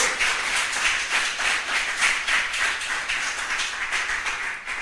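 Applause from a church congregation during a sermon, a dense, steady wash of many hands clapping at close range for several seconds with no talk over it.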